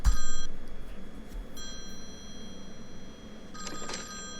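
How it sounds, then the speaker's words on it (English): A telephone rings at night in a bedroom, sounding as three ringing bursts separated by short pauses, close and clear with no one speaking. "So the phone's ringing."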